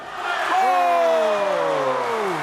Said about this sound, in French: La foule qui est en délire ici à Fatawa